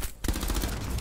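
Rapid burst of gunfire in Rainbow Six Siege, loud and close, with dense overlapping shots after a brief quiet gap at the start.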